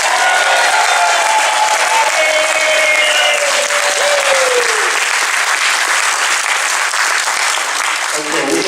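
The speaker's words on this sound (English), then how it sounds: "let's give this cast a big round of applause" Loud, sustained applause from a large audience in a hotel ballroom after a murder mystery theatre performance, steady clapping filling the room throughout, with some crowd noise mixed in.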